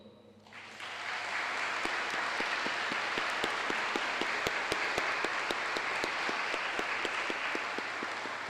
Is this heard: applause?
yes